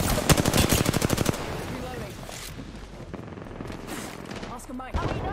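Rapid R-99 submachine gun fire from Apex Legends, a loud close burst of tightly spaced shots in the opening second and a half, then a busier mix of game sounds and voice chatter with a final sharp report near the end.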